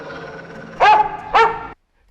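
A dog in a film clip gives two sharp, loud barks close up, then the sound cuts to silence.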